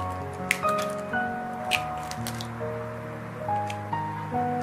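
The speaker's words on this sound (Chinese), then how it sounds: "然后再打入四个鸡蛋" Four eggs cracked one after another into a bowl of blended steamed bun, brief wet cracks and squishy drops spaced through the clip over quiet background music.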